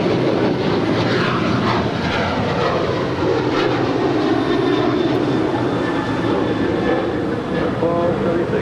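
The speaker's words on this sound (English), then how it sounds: "I believe that was United 1276 departing to Cancun, a 737-900 ER." A United Boeing 737-900ER jet departs LAX, its engines roaring loud and steady throughout, with a faint whine riding over the broadband rumble.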